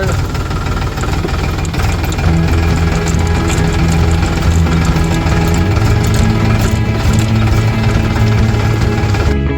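A tractor engine runs close by, a loud, steady diesel chugging with knocking vibration that continues throughout, and no voices.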